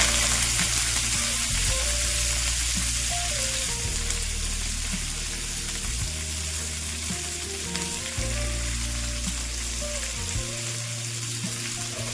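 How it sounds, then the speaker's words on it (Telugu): Asafoetida and a handful of curry leaves fry in hot oil for peanut podi with a loud, continuous close sizzle and crackle, lasting throughout under soft background music. "ఇందులోనే ఒక రెండు చుట్టలంతా ఇంగువ వేసుకుని ఒక గుప్పెడు కరివేపాకుని వేసుకుంటున్నాను"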